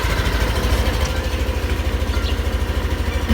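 A motorcycle engine idles steadily on a Sunday ride, its low, even firing pulses loud and close with no talk over it.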